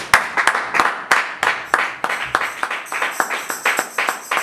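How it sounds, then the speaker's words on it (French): A church congregation claps in praise during a worship service, sharp irregular handclaps that gradually settle into a quicker rhythmic clapping with faint voices rising behind. "On acclame le Seigneur."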